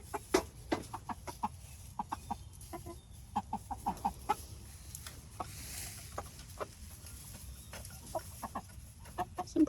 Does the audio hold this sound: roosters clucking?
yes